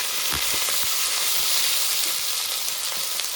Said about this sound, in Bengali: টমেটোটা লাল লাল করে ভেজে নিয়েছি, এবার বেটে রাখা লঙ্কা আর আদাটা দিয়ে কষিয়ে নেব।